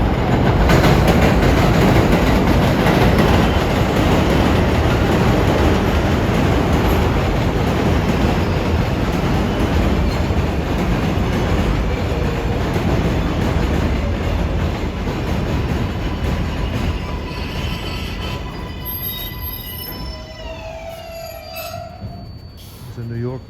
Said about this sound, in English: A New York bound train.